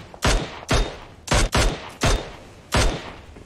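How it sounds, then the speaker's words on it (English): Several loud, sharp video game gunshots crack in quick succession, each a short blast with a brief tail, close and punchy. "we hear the sounds from the gunfire behind him"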